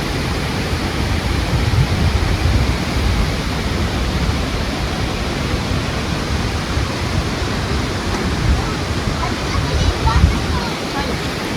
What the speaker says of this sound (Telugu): కింద అయితే వాటర్ ఫ్లో కానీ ఆ సౌండ్స్ కానీ నాకు వెళ్ళిన దాంట్లోనే చాలా